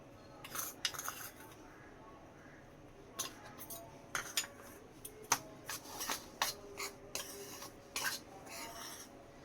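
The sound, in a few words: mixing gram flour and cornflour batter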